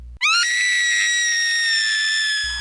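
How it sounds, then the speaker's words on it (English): A shrill, blood-curdling scream blares from a phone ringing through a house, one sustained piercing cry lasting over two seconds, loud and alone with no talk. "A blood-curdling scream ran through the house from his phone."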